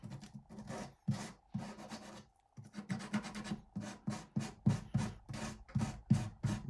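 Sandpaper rubbing over a cracked wooden guitar bridge, close and steady, with rhythmic back-and-forth strokes that grow quicker and more regular toward the end.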